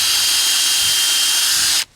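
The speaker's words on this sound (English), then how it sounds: "starting in one corner, I can go ahead and pre-drill" Power drill boring pilot holes through sandwiched plywood for a workbench top, a steady loud whine that runs without a break and then cuts off sharply near the end.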